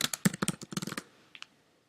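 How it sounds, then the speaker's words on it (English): Someone types a search on a computer keyboard in a quick burst of about a dozen close, crisp key taps over one second, followed by a couple of fainter clicks and then silence. "I can just type it in here, if I can spell it right."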